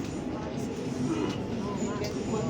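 Steady low rumble of an underground train at a Rome metro station, with continuous mechanical hum and faint high squeals, under background voices of people disembarking.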